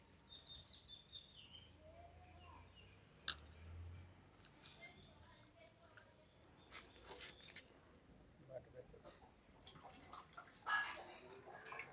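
Poppy seeds and white mustard seeds are rinsed in water in a kitchen, giving soft, irregular splashing and swishing that grows louder and busier toward the end over a quiet background.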